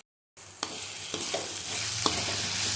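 Chili powder dropped into cabbage frying with crushed ginger and garlic: a short burst of close sizzling after a moment of silence, with stirring scrapes and clicks over the hiss.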